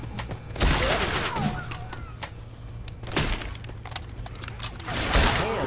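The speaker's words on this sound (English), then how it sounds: "Are you out of your mind shooting at me?" Gunfire in the zombie shooter Left 4 Dead 2 on the Dead Center map, a few heavy booming shots spaced seconds apart over game ambience and mechanical clatter.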